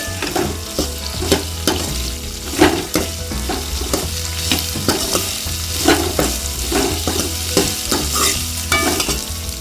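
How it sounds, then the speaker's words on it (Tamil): Onions being sautéed in a pan, with a continuous sizzle and regular scraping stir strokes of a spatula, loud and close throughout with no voices. "வெங்காயம் நல்லா வதங்கிட்டு"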